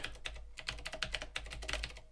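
Fast, steady typing on a computer keyboard used with a Commodore VIC-20 case-mod setup, dense close key clicks in a continuous run with no talking.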